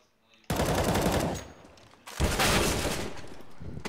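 Automatic rifle fire in Counter-Strike on the Dust2 map, two loud, close bursts of rapid gunshots, the first fading out before a second heavy volley follows.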